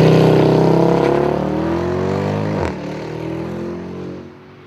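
Mercedes-Benz E63 AMG with a 6.2-litre V8 pulls hard under acceleration, its loud, deep engine note climbing steadily in pitch, then a sharp gear change and a rising note again before easing off.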